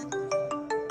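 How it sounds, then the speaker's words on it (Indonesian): A mobile phone ringtone sounds for an incoming call, a bright repeating electronic melody of short tonal bursts in a steady rhythm, close and clear with no talk. "Tumben nih si Boy telpon"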